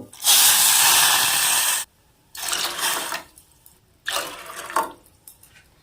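Water pouring into a cooking pot of sago pearls for a Bengali sago and gobindobhog rice dessert, in three separate pours: a long steady splash, then two shorter ones with pauses between, close and fairly loud.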